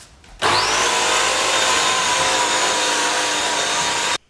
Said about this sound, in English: As you can see, it is about as noisy as a vacuum cleaner.